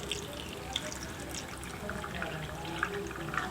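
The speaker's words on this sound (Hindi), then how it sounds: "1 कप बादाम में हम पानी डाल देंगे।" Water poured into a bowl holding a cup of almonds, a soft steady splashing and trickling with faint drips, fairly quiet and alone.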